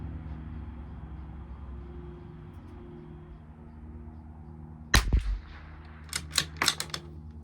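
Bergara B14r Club Master rifle fired during an ammunition test at a range, a sharp nearby report followed by several quick, fainter cracks over a low steady background hum.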